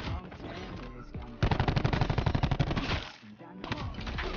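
Rapid bursts of Maddox assault rifle fire in a Call of Duty match, loud and close, with a steady rattling volley that cuts off briefly before resuming, over game music and sound effects.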